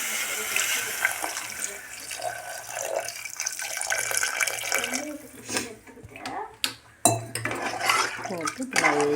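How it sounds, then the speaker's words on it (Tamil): Water pours and splashes into a pan of spiced goat spleen, briefly interrupted, followed by bubbling and sizzling as the gravy cooks close by. "கொஞ்சமாக தண்ணி ஊற்றிக்கணும்."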